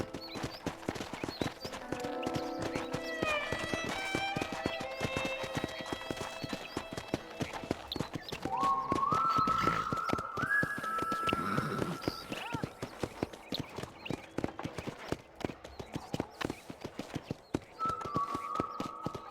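Horse hooves clip-clop steadily at a ranch in Red Dead Redemption 2, a continuous trotting rhythm close by, with an occasional whinny and game music playing underneath.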